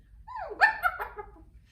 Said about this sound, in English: did you recognize my little puppy, my Christmas puppy?